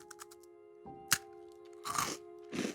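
A crunchy, crumbly buttery peanut caramel treat chewed close up, a few sharp crunches followed by two longer grinding bites, with no talking.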